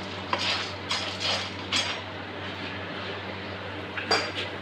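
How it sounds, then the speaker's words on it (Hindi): A spoon stirs rice with salt and ghee in a cooking pot, giving several sharp metallic clinks and scrapes against the pot over a low steady background. "इसको पहले अच्छे से हिला लेना है ऐसे इसलिए कि इसको ना नमक और घी लग जाए मिक्स हो जाए"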